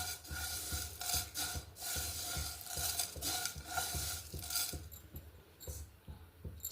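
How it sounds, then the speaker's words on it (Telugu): Coriander seeds, cloves, cardamom and cinnamon dry-roasting in a kadai, with a dense rattling hiss and repeated rhythmic scrapes as the whole spices are stirred, close and steady. "ఒక కడాయి పెట్టుకొని ఒక చిన్న కప్పు ధనియాలు నాలుగు లవంగాలు నాలుగు యాలకులు కొంచెం దాల్చిన చెక్క ముక్క వేసుకొని బాగా రోస్ట్ చేసుకొని"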